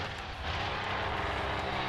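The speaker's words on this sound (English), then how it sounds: "he's revving his chainsaw that much" A chainsaw revs in the Texas Chainsaw Massacre video game, giving a loud, steady buzzing engine drone that holds for about two seconds without a break.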